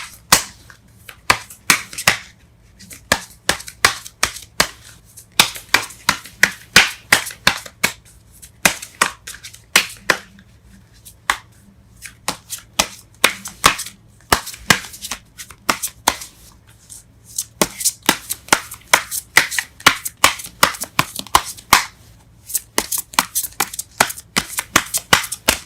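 Tarot cards snap and riffle in rapid bursts as the deck is shuffled again and again, close and crisp, with brief pauses between flurries and no speech.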